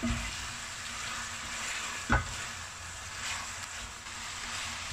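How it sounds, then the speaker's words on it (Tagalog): Food frying in a pan as black pepper goes in and the mix is stirred again; a steady, even sizzle runs throughout with one sharp scrape or tap near the middle, and no one speaks. "Lagyan ng kaunting black pepper or paminta. Then, haluin ulit."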